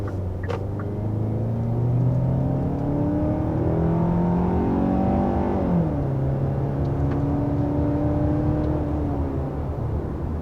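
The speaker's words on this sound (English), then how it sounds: "there was our acceleration up to about 60 miles per hour" A 2022 Hyundai Santa Fe SUV accelerating up a steep grade to about 60 mph, engine whine climbing through gears with a clear shift drop midway, heard from inside the cabin as a steady, fairly loud rumble.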